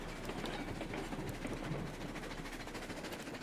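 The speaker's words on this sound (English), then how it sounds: "we are going to be taking the train up the new track" A train in the Railroads Online video game rolls along the track with a continuous rumbling clatter and steady rhythmic clicks, fairly loud and unbroken throughout.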